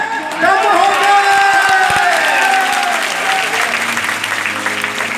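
Audience at a live devotional show at Chanot temple in Bhadrwah breaking into loud, dense clapping that swells quickly and then thins out, with crowd chatter and a voice carrying over the applause.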